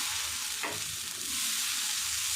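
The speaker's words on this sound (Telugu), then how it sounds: "ఇప్పుడు దోశ వేసి దోశ మీద చూపిస్తాం మీకు చూడండి స్టవ్ మీద ప్యాన్ పెట్టేసి" Steady, broad hiss of dosa batter sizzling on a hot pan, with a brief scraping stir partway through, loud and continuous with no voices.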